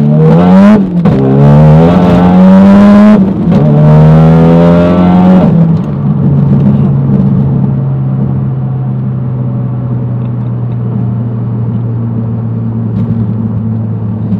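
A Mountune-tuned 2017 Ford Focus RS accelerating hard, its engine pitch climbing loudly through several rising sweeps with sharp gear-change breaks, then settling into a steady droning cruise heard from nearby.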